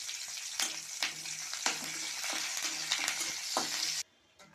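Dried red chilli and curry leaves crackle and sizzle in hot oil in a kadai, a steady loud fry broken by several sharp spatters and stirring clicks, ending abruptly into quiet.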